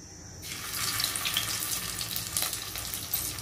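Paneer cubes frying in peanut oil in a non-stick kadhai, a close, steady hissing sizzle that bursts in as the cubes drop and keeps crackling evenly.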